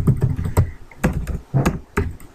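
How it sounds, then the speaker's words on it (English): Typing on a computer keyboard, a series of distinct, close, clacky keystrokes in an irregular rhythm with short pauses, no talking. "You can just type the command and it should give you all the options you need."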